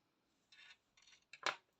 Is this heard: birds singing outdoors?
no